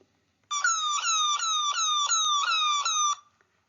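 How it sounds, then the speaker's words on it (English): A bat echolocation call slowed down to audible pitch repeats as a rapid series of descending, siren-like chirps for about three seconds, loud and clear against silence. "This clip is a bat call lowered to a frequency that we can hear."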